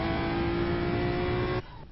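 A car is stolen and driven off, giving a loud steady engine drone that drops away suddenly near the end as the vehicle pulls away.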